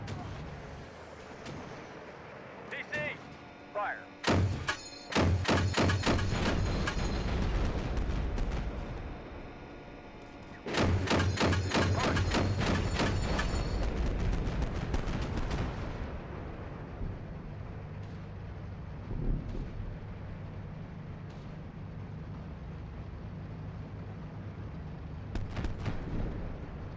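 Tank gun and automatic weapon fire in the Steel Beasts Pro PE combat simulator, a winter battle with a CV90/30 vehicle: dense rapid volleys in two long loud bursts, then quieter rumble and occasional distant shots.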